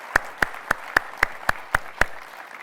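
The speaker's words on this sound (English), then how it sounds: "A round of applause, please." Applause follows a panel discussion at a sourcing summit in Belfast, heard as eight crisp, evenly spaced claps close by, like one pair of hands, then quiet.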